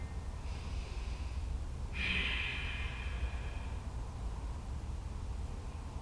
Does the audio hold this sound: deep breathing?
yes